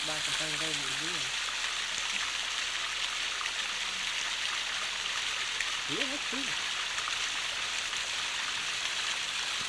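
A waterfall and flowing stream on a mountain crest trail, a steady broadband rush of water filling the scene throughout, with people talking briefly over it at the start and near the middle.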